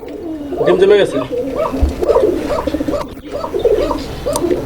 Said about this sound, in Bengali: এখানে প্রচুর কোকা ডাকে